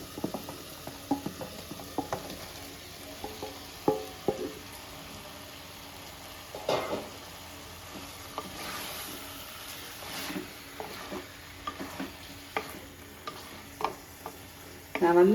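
Pieces of fried chicken are stirred in a hot clay pot with a spoon. Soft scraping and clinking stir strokes come in an irregular rhythm over a faint background sizzle, quiet and close, with no talk.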